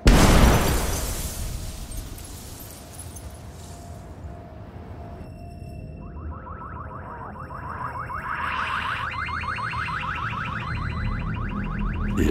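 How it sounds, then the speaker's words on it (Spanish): A huge, brutal explosion shatters the calm in an outdoor area, a loud broadband burst that decays into rumble before several car alarms start wailing and cycling, with glass and debris implied. "un enorme estruendo, una explosión brutal, rompe la calma"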